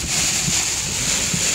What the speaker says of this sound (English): Ooh, the wind's blowing.